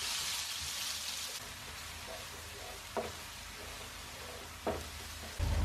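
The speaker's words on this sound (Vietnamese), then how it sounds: "Dầu sôi thì mình sẽ cho cái phần tỏi, ớt và sả vào đây xào cho" Garlic, chili and lemongrass stir-fry in hot oil with a steady, close sizzle and crackle. A couple of sharper stirring scrapes cut through it, and a brief louder thump comes at the end.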